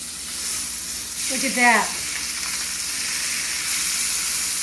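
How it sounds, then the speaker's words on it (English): Chicken thighs sear in a pan over medium-high heat for a braise, a constant close sizzle and hiss running throughout while a person speaks briefly in the middle. "I'm probably gonna sear this on medium to high heat, keeping a good eye on it"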